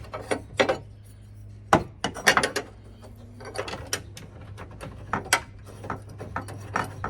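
Sharp, irregular clicks and ratcheting taps as a security key tightens a tag bolt on a 4th-gen Toyota Tacoma tailgate lock, close and fairly faint, with a low steady hum underneath.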